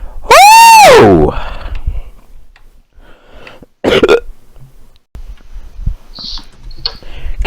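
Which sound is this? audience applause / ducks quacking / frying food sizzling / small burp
small burp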